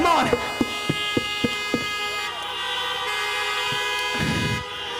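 Car horns blare in long, overlapping honks at a drive-in concert after a quick series of sharp taps, with a low background rumble throughout.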